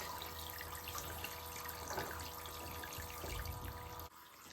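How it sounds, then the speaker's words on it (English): An elephant-shaped sprinkler toy sprays water in a continuous hissing, splashing stream, fairly faint and steady, with the spray cutting off near the end. "I can put a hair tie on this little elephant and it just sprays water"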